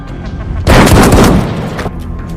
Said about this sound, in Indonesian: langsung ditembak mati oleh semua